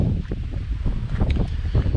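Steady low rumbling wind buffets the microphone throughout, a continuous loud whoosh with no clear pauses.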